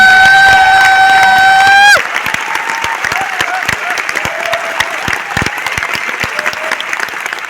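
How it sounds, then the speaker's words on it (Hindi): An audience at a success celebration in Noida bursts into loud, sustained clapping right after a short held electronic tone. The dense applause carries on steadily to the end. "तो करोड़पति वाली ताली बजाओ"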